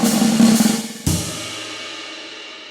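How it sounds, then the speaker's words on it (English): Brushy snare drum buzz roll closing a jazz swing fill, a dense press roll that fades out, then a single accent that rings and decays; played alone, close and moderately loud. "Another tip to the press roll or the buzz roll is that you can let it fizzle out a"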